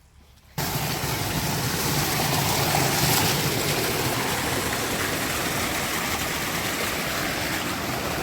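Water gushes from a farm tubewell, starting abruptly after a short quiet moment and then running as a loud, steady, close roar without a break.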